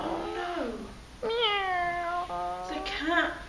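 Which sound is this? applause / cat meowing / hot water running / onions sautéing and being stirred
cat meowing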